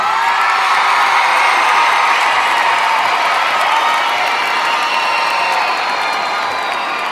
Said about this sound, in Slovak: Tak veľký potlesk pre riaditeľa tohto projektu Slavomíra Kravčáka